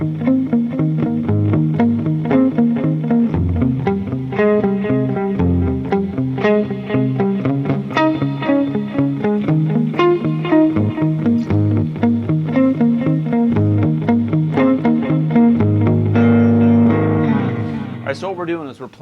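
Electric guitar picking a suspended-chord arpeggio pattern, steady repeating notes ringing with a chorus-like effect, played alone and closing on a sustained chord.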